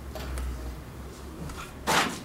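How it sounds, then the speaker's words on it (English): A door in a lecture hall is pushed shut with a single soft thud against a low room hum and faint background shuffling. "could you close the door, please?"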